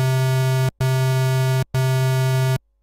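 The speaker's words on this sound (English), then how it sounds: "Then the next waveform is the square wave" A buzzy, hollow synthesizer square wave plays in three long, even bursts with brief silences between, loud and isolated with nothing else underneath.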